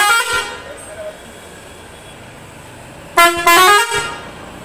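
Air horn fitted to a modified BS6 Mahindra tourist vehicle, sounding a short musical blast, then a louder two-part toot near the end, with a voice talking underneath.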